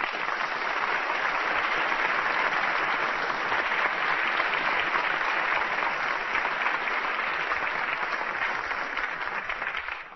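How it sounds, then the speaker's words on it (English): Sustained, loud audience applause for a comedian at a British Christmas show, a dense steady wash of clapping that holds for about ten seconds before trailing off at the end. "let's have a fabulous clap, clap, clap for the one and only"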